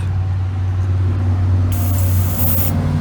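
A steady airbrush hiss, with a brighter burst of spray partway through over a low mechanical hum.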